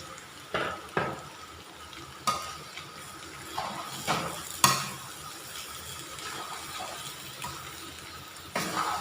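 Close, loud sizzling as noodles and blanched vegetables stir-fry in a wok, with repeated scraping and clanking of a utensil stirring at irregular intervals.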